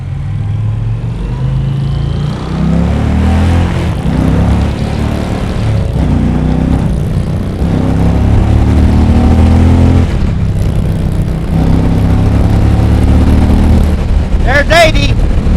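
An Indian Challenger motorcycle on a demo ride at BikeFest 2020 throbs loudly up close, its engine note rising and falling through several accelerations and gear changes, with a rider's voice over it.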